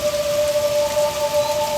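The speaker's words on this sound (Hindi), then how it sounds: "बारिश हो रही है।" Rain falls steadily in a Hindi TV drama scene, a continuous hiss of drops with a faint sustained tone running beneath it and no voices.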